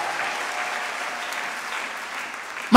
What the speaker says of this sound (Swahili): Ungempigia Bwana makofi yanayoeleweka.